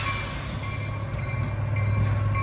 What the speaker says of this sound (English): Here's an eastbound Metra commuter train heading from Metra's Aurora Transportation Center to Chicago Union Station.